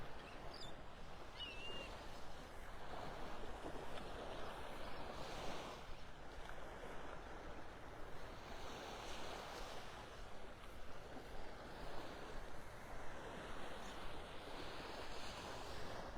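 Gentle ocean surf at Delnor-Wiggins beach in Naples, Florida, a soft continuous wash of waves near a turning tide, mixed with light wind rumble on the microphone and no speech.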